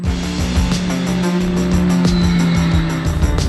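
Can-Am Maverick side-by-side rally car powering along at a desert race, a steady loud engine drone with rising and falling revs, gear changes and brief tyre scrabble, continuous and close throughout.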